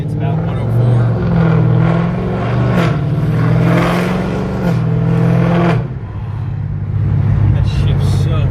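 A 2018 Dodge Charger accelerates hard on a hot Las Vegas day, its loud engine note climbing and then dropping sharply at a gear shift before building again, with someone talking over it.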